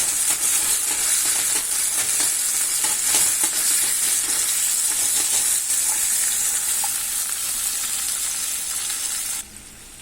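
Duck meat sizzles loudly in a pan with Szechuan sauce while it is stirred. A steady, bright frying hiss runs for about nine seconds, then drops abruptly to a quieter sizzle.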